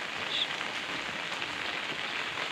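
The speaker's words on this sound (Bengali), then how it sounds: "দেখো কত সুন্দর লাগছে বৃষ্টিতে এই কচু পাতার গাছটা। বৃষ্টির জল এটাতে পড়ে দারুণ লাগছে।" Rain falls steadily onto broad taro leaves outdoors, a continuous soft patter and hiss with no talking throughout.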